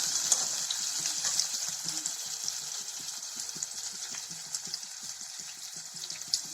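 Onions frying in a pan for a cauliflower, peas and potato masala, a steady soft sizzle with scattered crackles and pops, heard alone at close range.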